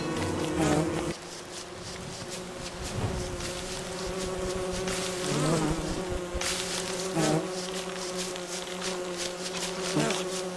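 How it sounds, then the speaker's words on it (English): Angry bees in the video game Don't Starve Together drone in a loud, steady swarm buzz, with repeated rising whines pulsing every couple of seconds over the hum. "I'm about to bring a bunch of angry bees!"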